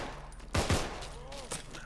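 Gunfire in a video game: a couple of quick, punchy shots close together, then a fainter shot a moment later, over a low background hum.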